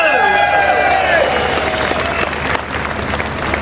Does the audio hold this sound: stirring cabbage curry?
no